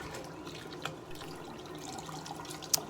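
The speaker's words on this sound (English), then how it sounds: "just hot water, boiling wax straight off the custom trays" Hot water running steadily in a dental lab boil-out setup, washing wax off custom dental impression trays, a continuous splashing flow with a brief sharp clink near the end.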